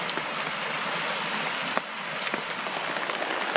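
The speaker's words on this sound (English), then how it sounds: "we've got some pretty steady rain right now" Steady rain patters on a surface at a winter campsite in the Catskills woods near freezing, a continuous close wash of drops with a few sharper individual splats, no talking.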